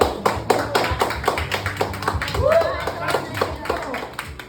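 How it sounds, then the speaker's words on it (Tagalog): A group clapping at a scripted team-building awarding ceremony held at a private resort, with rapid, fairly close claps running continuously under people talking and calling out. "Guys, participate naman sa palakpak ko."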